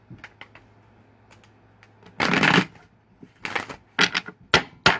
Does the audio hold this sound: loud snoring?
no